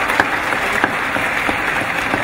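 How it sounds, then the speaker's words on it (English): An audience at a symposium marking 150 years since the Sagrenti War applauds, a steady wash of clapping heard at some distance through a reverberant hall, even in level throughout with a few sharper claps standing out. "Please, a resounding round of applause."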